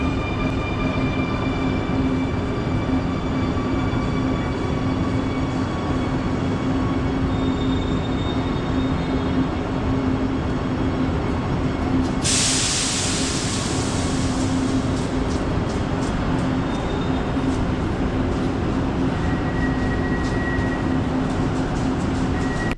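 A Quito metro train runs north towards Labrador, heard from inside as a loud, continuous rolling rumble with a faint whine. A brief hissing burst cuts in about halfway through, and no one speaks.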